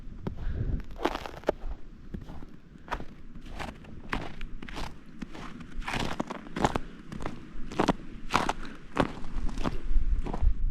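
Footsteps crunch over snowy ground by a river at an even walking pace, each step a crisp, close crunch, with no talking.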